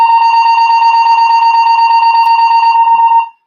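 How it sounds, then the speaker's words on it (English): A fire alarm system test: a loud, steady electronic alarm tone with a rapid pulsing warble, sounding continuously for about three seconds before cutting off abruptly. "They're testing the fire alarm system."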